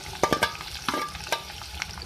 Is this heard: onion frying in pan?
yes